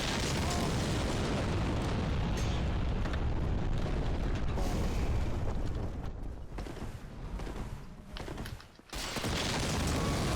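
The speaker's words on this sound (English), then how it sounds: "I didn't think the explosion would reach me in that corner" An explosion in the video game Dark Souls produces a loud, sustained roaring blast with rumbling, crackling texture. It dips briefly near the end before surging back.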